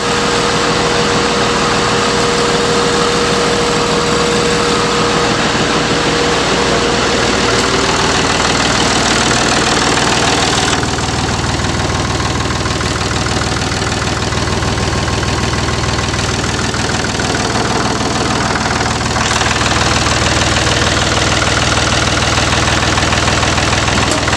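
A tractor engine idles steadily and loudly while warming up, a continuous low rumble with a slight knocking texture and no voices.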